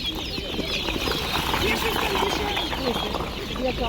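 Busy market chatter with poultry sounds mixed in, ducklings and roosters clucking and crowing under people talking.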